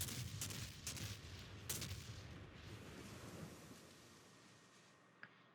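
Naval guns booming in World of Warships during a broadside from a US Atlanta-class cruiser: several loud, rumbling blasts in the first two seconds, then a steady roar fading toward the end with one sharp late crack.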